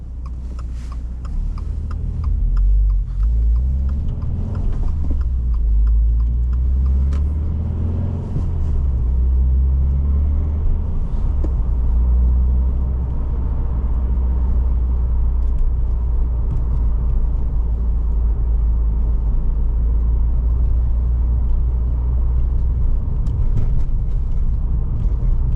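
A 2024 Subaru WRX Limited with a 6-speed manual is heard from inside while driving: a steady, loud low engine drone and road rumble persist throughout, with faint ticking and brief surges in engine pitch.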